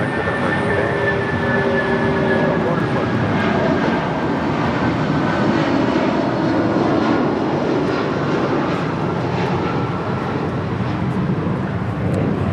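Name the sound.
United Airlines Boeing 757-200 jet departing LAX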